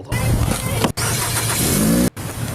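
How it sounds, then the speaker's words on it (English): A Nissan Altima's engine starts up nearby, a low rumbling crank and catch broken by brief dropouts, with people talking over it. "The car starts."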